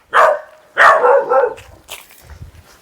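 Dogs on a goat farm near Vitla bark in two loud, close bursts, the second a quick run of barks, then fade to fainter yips and whimpers.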